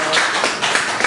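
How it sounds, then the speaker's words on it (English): Audience applause for a puppeteer at a puppet show in a small theater: a short, steady wash of clapping from a nearby crowd, even in level throughout. "Let's give Bobby another nice round of applause"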